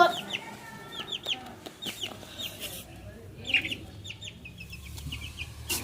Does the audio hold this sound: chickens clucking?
yes